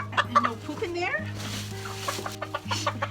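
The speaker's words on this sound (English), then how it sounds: "These little white chickens, the leghorns," White leghorn chickens cluck and murmur close by in a farmyard, several short bursts over a low steady hum.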